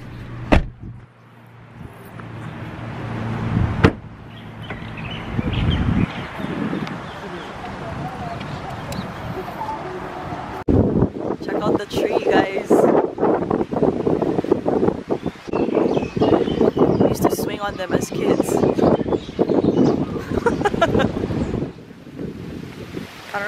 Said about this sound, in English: You guys can hear the wind, sorry,